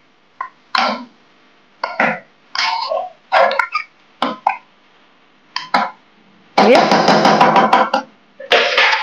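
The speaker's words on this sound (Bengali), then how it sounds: "এবার জল দিয়ে মটনটাকে খুব ভালো করে নাড়িয়ে নিতে হবে।" Mutton stirred with water in a pot gives repeated short scraping and clattering strokes in an irregular rhythm, close and fairly loud, ending in a longer sustained stretch of rough scraping.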